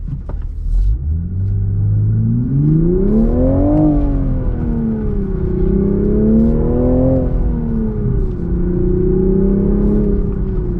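A Toyota GR Supra 3.0 with a six-speed manual gearbox revs on a race track, its engine note rising and falling through several sweeping pulls in a steady, loud, close rumble without talk.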